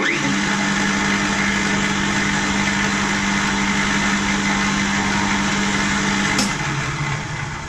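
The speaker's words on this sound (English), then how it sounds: "Go slow so it drills through nice and even." A drill press bores through plywood with a steady, continuous motor hum and grinding cut, then cuts off sharply near the end.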